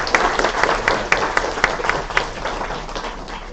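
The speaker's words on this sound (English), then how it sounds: "let's do another round of applause to Cora." Round of applause from a mini-con audience for a presenter, dense steady clapping with scattered sharper claps throughout, moderately loud and without speech over it.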